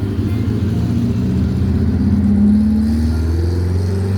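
A car engine with no muffler rumbles loudly and close in a deep steady drone, its pitch swelling briefly as it revs before settling back.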